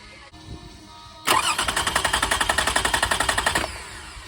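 A 2006 Toyota Highlander 3.3L engine cranks with its fuel injection disabled, so it never fires: a loud, fast, even starter-motor chug runs for about two seconds and then cuts off, leaving a quiet background.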